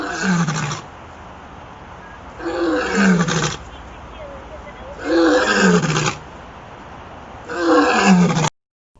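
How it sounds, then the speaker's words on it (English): A lion gives four powerful, evenly spaced roars, each loud and close, with short quiet gaps between them. "lion"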